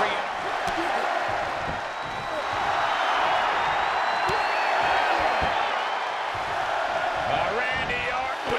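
A dense arena crowd roars and cheers continuously during a WWE 2K23 Elimination Chamber match, with a commentator talking over the steady wall of noise.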